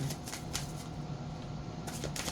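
Tarot cards are shuffled with soft, rapid riffling and flicking, a few close bursts over a quiet hiss.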